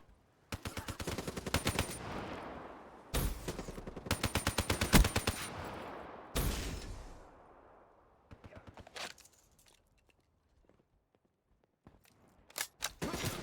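Assault rifle fire in Call of Duty, several long automatic bursts with short gaps between them, then a few shorter scattered shots and clicks toward the end, loud and close with no talk over it.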